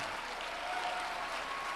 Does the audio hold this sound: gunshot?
no